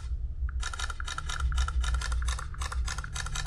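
Samsung Galaxy Z Fold 4 phone camera firing a rapid burst of shutter clicks, crisp evenly spaced ticks in quick succession over a low steady hum, close and fairly loud.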